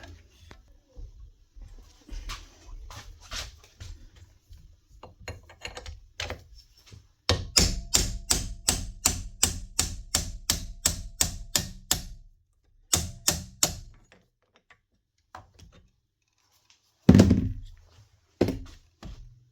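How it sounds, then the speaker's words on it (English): A hammer strikes a cold chisel held against the chuck of a Dewalt DCH273 hammer drill, metal on metal in repeated sharp knocks, first scattered, then a fast steady run of blows, with a few heavier hits after pauses. "Let's get a cold chisel and put it against the actual tool holder and give that a knock"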